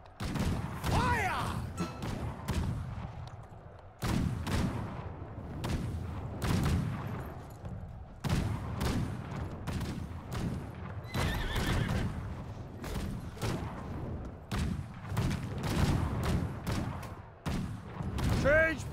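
Musket volleys in the video game Conqueror's Blade: repeated sharp, broadband cracks of massed gunfire in rapid bursts, mixed with horse neighs and clip-clopping hooves across a busy battlefield.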